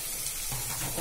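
Tomatoes dropped into onions frying in oil in a pan, a brief, bright, steady sizzle at close range with no voices.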